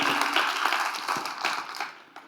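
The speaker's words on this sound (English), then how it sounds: "give him a round of applause, you guys" A small group in a CrossFit gym claps briefly, with sharp individual hand claps that thin out and fade within a couple of seconds.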